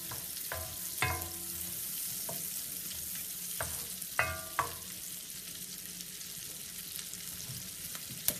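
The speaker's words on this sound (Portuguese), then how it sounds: "Posso deixar fritar um pouco." Beef strips and onion fry in a pan for beef stroganoff, a steady sizzle broken by a few sharp utensil clinks and scrapes, no talking.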